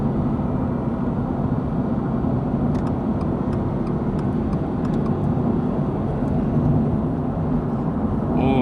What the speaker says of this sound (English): That was an incredible downshift